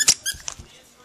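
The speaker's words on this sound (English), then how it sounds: "Loves anything that squeaks." A squeaky teddy bear toy gives several sharp, loud squeaks in quick bursts as a small dog plays with it, with faint rustling between the squeaks.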